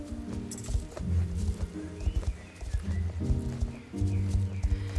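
A pony's hooves clip-clop steadily during riding training, with close, rhythmic hoof strikes over a low rumbling background and a brief whinny-like sound early on.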